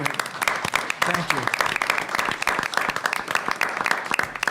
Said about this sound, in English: we ought to applaud your service before we move on.